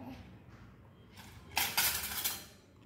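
Toy kitchen utensils and dishes clink and rattle in a short burst, faint at first and then a brighter cluster of small metallic chinks.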